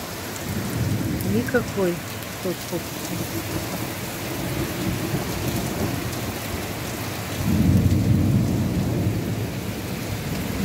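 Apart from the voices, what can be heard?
thunderstorm with rolling thunder and rain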